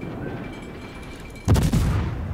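A warship's guns fire in the video game World of Warships, giving one heavy booming blast with a rumbling tail after a quiet, steady hum; no talking.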